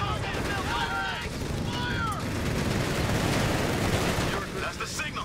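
A 57 mm anti-tank gun fires in Company of Heroes 3 on an Italian beach landing map, set within a dense, continuous rumble of battle while voices shout over it.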